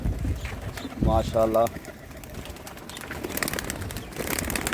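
Pigeons coo close by over a steady background hiss, with someone speaking briefly near the start.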